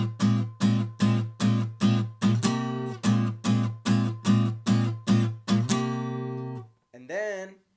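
Guitar strumming the chords of a song, a steady run of about fifteen punchy muted-attack chord hits at an even pace, then a brief higher slide at the end.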